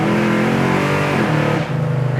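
A 1969 Chevrolet Chevelle, a fast muscle car, accelerates hard with a loud, close engine roar that climbs in pitch, briefly dips as it shifts, then pulls again.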